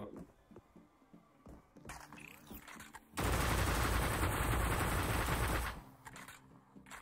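Gunfire in the VR shooter Sweet Surrender: a loud, dense sustained burst erupts midway and lasts a few seconds. Quieter game sounds and scattered shots come before and after it.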